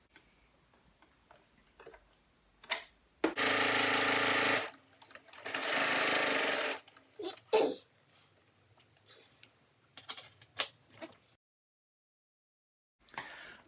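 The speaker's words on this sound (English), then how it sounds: "what I'm doing now is sewing the inside lining together along one of the edges" A sewing machine stitching the inside lining of a Halloween pumpkin dice bag runs in two short bursts of steady whirring, separated and surrounded by quiet clicks and handling taps in a still room.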